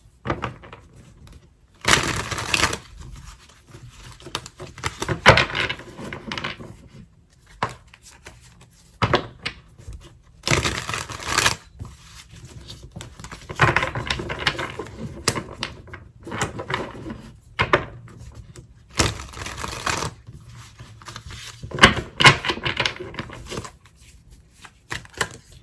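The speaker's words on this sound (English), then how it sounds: "I need to shuffle again, y'all." A tarot card deck being shuffled by hand in repeated bursts of riffling and rapid flicking, close and crisp, with short pauses and light handling noises between bursts.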